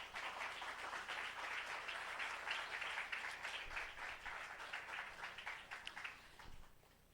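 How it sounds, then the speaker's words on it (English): An audience at a public forum and solidarity ceremony claps in sustained applause that stays dense and steady for several seconds before thinning and fading. "Let us give a round of applause."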